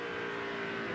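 Steady high engine drone from a NASCAR race car at the 2002 Pennsylvania 500, a sustained loud whine with strong tonal bands and no talk over it.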